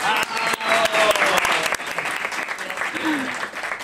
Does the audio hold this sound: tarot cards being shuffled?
no